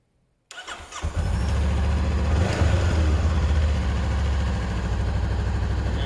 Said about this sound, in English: I'm going to start it and let it idle for about 3 minutes.